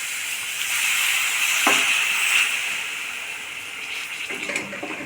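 Sugar syrup for sweet pongal boils in a pot nearby with a steady watery hiss and bubbling, with a brief hiss burst partway through; no voices.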